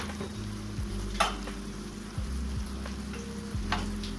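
Masala for a samosa filling roasting in a pan, a low steady sizzle with periodic scraping stirs every second or so, close and fairly quiet with no voices.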